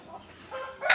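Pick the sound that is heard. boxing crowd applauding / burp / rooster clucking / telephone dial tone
rooster clucking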